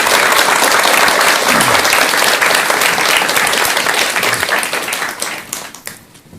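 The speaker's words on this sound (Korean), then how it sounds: "여러분 큰 박수 부탁드립니다." Lecture audience applauding, loud and close, a thick wash of many clapping hands that holds steady, then thins out and fades over the last two seconds.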